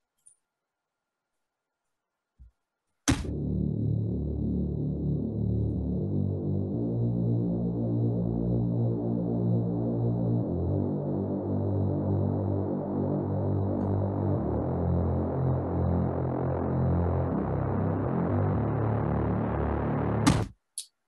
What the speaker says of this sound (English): I'm using a different bass for the break than I am for the rest of the track